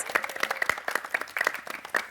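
An audience at a high school academic competition claps for two competing teams, a brief burst of brisk, close applause with distinct individual claps and no talking.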